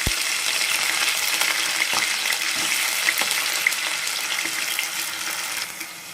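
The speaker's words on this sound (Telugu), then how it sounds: "ఆయిల్ వేడైన తర్వాత కొంచెం పచ్చెనపప్పు వేస్తున్నాను. అలాగే ఆలు ముక్కలు వేస్తున్నానండి." Chana dal and potato pieces frying in hot oil, a loud, steady crackling sizzle with small pops, close up and continuous throughout.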